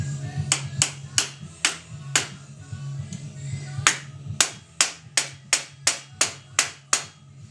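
Hardwood block struck against a bike crank bearing to drive it in, a series of sharp, evenly spaced knocks in two bursts with a brief pause between, close and crisp over low background hum.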